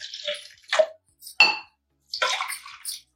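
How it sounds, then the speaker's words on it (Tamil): Water is poured into a cooking pot for a tamarind eggplant curry, heard as several short, close splashing bursts separated by brief silences. "இது அப்படியே இனி கொஞ்சம் தண்ணி ஊற்றிக்கலாம்."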